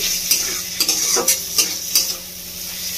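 Spice paste for a Bengali-style desi chicken kasa frying in a pan, a continuous loud sizzle with a regular series of spatula scrapes and stirs, close up and without talk.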